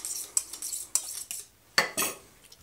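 A knife works a turkey crown off the bone on a board, giving a few sharp close clicks and scraping cuts with quiet gaps between them and no talking.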